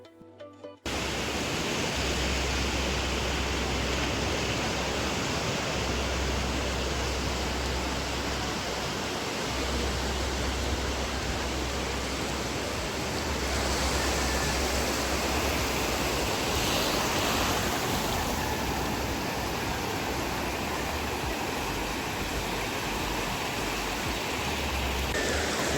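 Rough sea surf on the beach at Mandarmani, a constant loud wash of breaking waves with swelling and easing surges, heard alone with low rumble underneath throughout.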